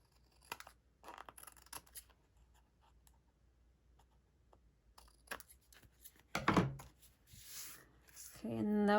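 Scissors snip pieces of a paper kit, with quiet scratchy cuts and a louder crisp snip near the end, while a person talks softly at times.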